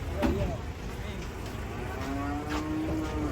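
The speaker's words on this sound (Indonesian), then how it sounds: "detik-detik penurunan sapi harimau. Sapi harimau besar nih" A giant cow being unloaded from a truck lets out low, drawn-out moos amid crowd noise, with people talking nearby.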